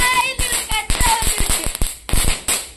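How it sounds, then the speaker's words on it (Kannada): A string of Diwali firecrackers goes off in rapid, irregular cracks and pops, loud and close, the bursts crowding together over a noisy outdoor background. "ಮಾಲೆ ಪಟಾಕಿ ಇನ್ನೊಂದು ಉಂಟು"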